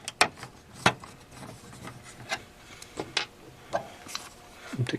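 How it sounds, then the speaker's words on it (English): Screws are backed out of a board by hand, producing a series of short scraping, ratcheting squeaks at irregular intervals, fairly close and moderately quiet, with no talking. "Let's take these screws out right here."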